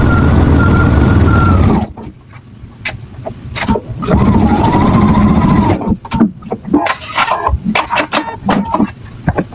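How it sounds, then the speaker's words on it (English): A Husqvarna Viking sewing machine runs a quarter-inch seam through pinned quilt pieces, a loud steady whir for about two seconds and then a shorter second burst, followed by clicks and handling noises. "we're going to pin them in place and sew our 1/4 inch all the way down"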